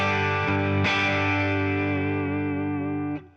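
An electric guitar chord through a Blues Breaker overdrive pedal with the guitar in the middle pickup position, struck loudly, restruck once, then left to sustain with a gritty, gently distorted ring until it cuts off.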